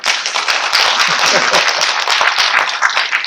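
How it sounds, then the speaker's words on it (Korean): Enthusiastic applause from a crowd at a launch ceremony in Gwangju, many hands clapping densely and steadily for a few seconds with no talking. "옆에 계신 분들에게 박수 한번 보내주세요."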